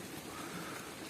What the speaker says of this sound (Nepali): पानी पर्यो आज चाहिँ